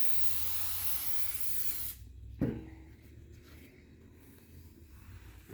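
Contact cleaner sprayed onto the drive belt of a Kawasaki Mule utility vehicle, a close, steady hiss lasting about two seconds that cuts off abruptly, followed by a sharp click and quiet handling noises.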